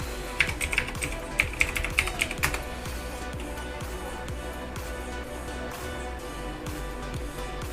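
Rapid clicking of a computer keyboard as chat messages are typed during an online game tournament, close and steady, with denser bursts of keystrokes early on and lighter tapping continuing throughout.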